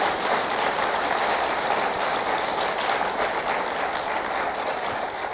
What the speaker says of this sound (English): A round of applause for our wonderful panelists here.